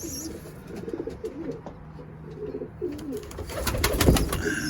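Pigeons in a loft give soft, low cooing calls, repeating in short murmuring bursts close by, with a brief rustle of movement toward the end.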